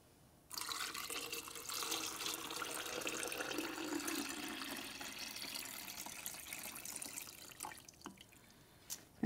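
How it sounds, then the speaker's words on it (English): Water pours steadily into the reservoir of a Cuisinart Brew Basics coffee maker, a soft continuous splashing that tapers into a few drips and clinks near the end. "let's fill the water reservoir"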